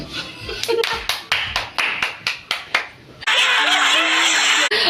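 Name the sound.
clapping for a child who made a cake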